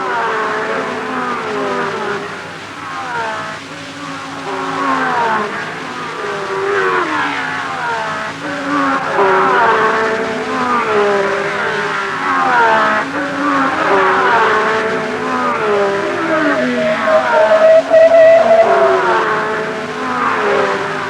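Matra racing car sliding crossed up through Druids Bend with engine howling and pitch rising and falling as it corrects, mixed with other race cars' engines in a continuous loud roar.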